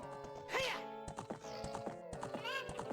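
Epona the horse's hooves clop in Zelda: Ocarina of Time, a quick run of game hoofbeats with a whinny over steady background music.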